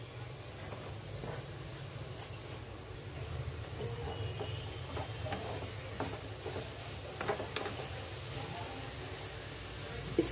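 Vegetables with capsicum, beans and cabbage sauté in a pan, a constant hissing sizzle with faint stirring scrapes running evenly throughout.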